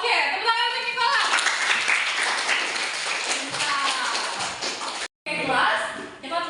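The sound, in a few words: classroom applause for a student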